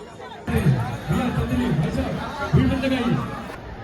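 A dense crowd chatters on the way to Manikarnika Ghat in Varanasi, a steady hubbub of many nearby voices with one man's speech standing out above the babble.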